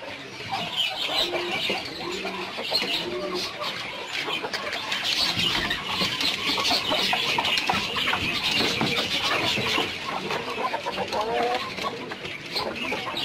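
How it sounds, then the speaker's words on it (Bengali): Caged farm chickens of the Kadaknath, Bantam and Leghorn breeds clucking and squawking continuously, a busy overlapping chorus of close birds filling the pen. "এখানে কয়েকটি প্রজাতির মুরগি রয়েছে, কাদাকনাথ, ব্যান্থাম, লেগহর্ন"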